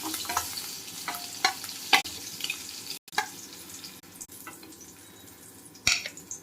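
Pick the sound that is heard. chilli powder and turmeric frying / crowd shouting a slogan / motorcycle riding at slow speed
chilli powder and turmeric frying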